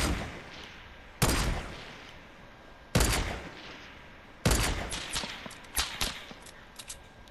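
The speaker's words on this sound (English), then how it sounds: "Oh, I'm being shot at." Video-game gunfire from an enemy shooting at the player: three sharp, loud shots spaced a second or more apart, then a ragged burst of several quicker cracks, all alone with no talk.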